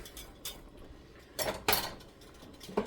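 Egg drop soup is stirred in a pot, with a few soft scrapes and clinks of a utensil against the metal, including two louder knocks, over a quiet steady simmer.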